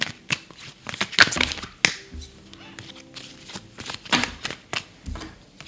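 Tarot-style cards are handled and shuffled in a series of crisp riffles, flicks and snaps, close and fairly loud, coming in bursts with short pauses between them.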